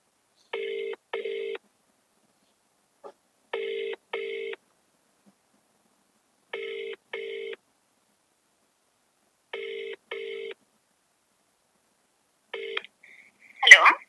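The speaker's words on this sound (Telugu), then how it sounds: "సార్, కాల్ చేస్తున్నాం." A telephone call is placed and rings out in four evenly spaced double-pulse ringback tones separated by silence. A short clatter follows at the end as the line picks up.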